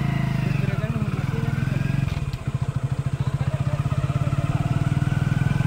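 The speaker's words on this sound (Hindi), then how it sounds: "अपना बाइक स्टार्ट हो चुका है" A motorcycle engine on a test ride on a wet road throbs in rapid, even pulses, close and loud, holding a steady chugging rhythm throughout.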